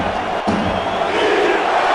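A stadium crowd at an American football game rises to its feet, a sustained broad roar of cheering and shouting that holds steady and swells slightly.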